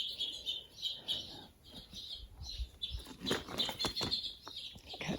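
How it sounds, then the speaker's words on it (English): Small birds chirp and tweet repeatedly in a garden, bright calls scattered throughout alongside some flapping and rustling close by, with no talking. "Got birds everywhere."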